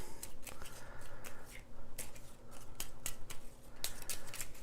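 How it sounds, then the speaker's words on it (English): Playing cards being shuffled by hand during a Valley of the Kings: Last Rites board game session, a series of crisp riffling bursts close to the microphone with short pauses between them, quiet and without talk. "so I have to shuffle"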